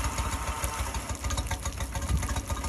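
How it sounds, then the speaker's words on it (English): An old outboard boat motor in poor condition, run low on oil and with a dirty carburetor, idles roughly and unevenly, a loud close sputtering chug with an uneven rhythm and no talk over it. "It idles like shit."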